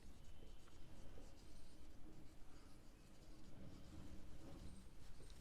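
Marker or chalk scratches steadily across a classroom board while a maths statement is written out, giving a continuous close scratching and tapping texture with no voice.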